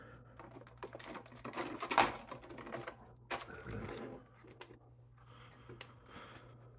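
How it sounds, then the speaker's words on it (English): Snips cut during an action figure unboxing, making a string of crisp, sharp clicks and snaps in quick succession. The cuts are close and fairly quiet over a faint steady background hum. "Trusty snips."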